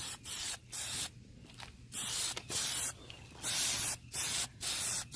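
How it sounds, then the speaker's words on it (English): Spray paint applied as a second coat from an aerosol can, a series of loud, close hissing bursts, each about half a second to a second long, separated by short pauses. "Remember to spray out a little bit to the side before you start."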